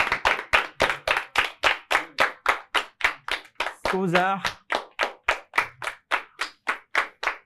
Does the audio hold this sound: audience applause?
yes